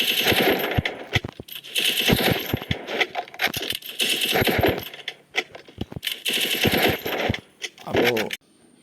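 Rapid gunfire bursts from the mobile shooter game Free Fire, loud clattering volleys in quick repeated clusters with short gaps, close and continuous across the stretch.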